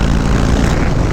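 A motorcycle engine on a motovlog test ride roars steadily and loudly up close, a dense, continuous drone with no pauses.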